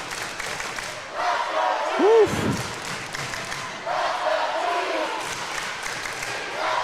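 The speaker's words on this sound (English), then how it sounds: "North Myrtle Beach fans on their feet, cheering on the Lady Chiefs" North Myrtle Beach fans at a state championship volleyball match cheer and shout from the stands in a rising, rolling wave of crowd noise, with a single loud whoop and an announcer talking over the top.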